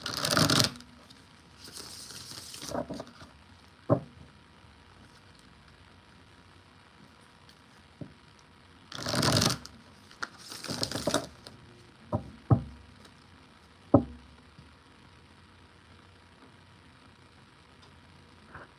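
Tarot cards are shuffled in several separate bursts of riffling and papery swishing, with soft knocks and taps between them and quiet pauses.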